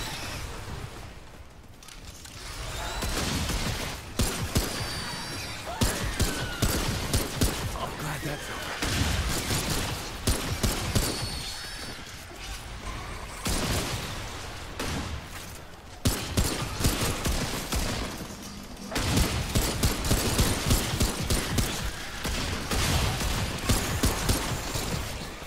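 Bursts of rapid gunfire in Remnant 2, heavy and close, running in clustered volleys with short gaps, mixed under excited talking from a player.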